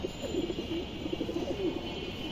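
A khaki male racing pigeon coos in a soft, steady run of low throaty notes with no one speaking.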